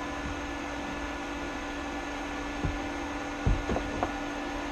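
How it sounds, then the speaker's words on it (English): The cooling fan of a Röhr MIG-200MI welder keeps running after switch-off, a steady, close hum with a constant tonal drone, broken by a few soft knocks and clicks near the end. "fan overrun for a minute, just to make sure it's not going to overheat"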